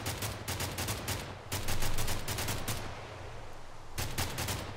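Rapid gunfire from a plane in a Minecraft modpack game, loud clustered bursts of repeated shots separated by short pauses, with a low steady engine hum underneath.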